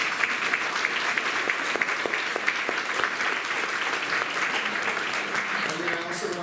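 An audience applauds Ted at a seminar with General Wesley Clark, a dense, even burst of clapping from a seated crowd that holds steady and begins to thin toward the end.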